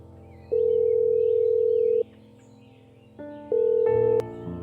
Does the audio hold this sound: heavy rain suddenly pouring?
no